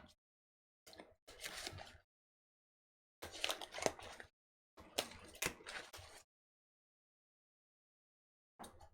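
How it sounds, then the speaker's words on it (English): Tarot cards being shuffled by hand, several short papery riffling bursts separated by silences, close and fairly quiet, with no talking. "that's enough shuffling"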